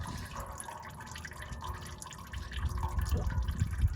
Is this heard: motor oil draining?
yes